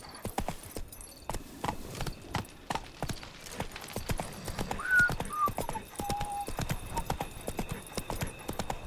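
A horse's hooves clip-clop in a quick, steady galloping rhythm in the video game The Witcher 3: Blood and Wine, with a brief whinny partway through, heard clearly and close.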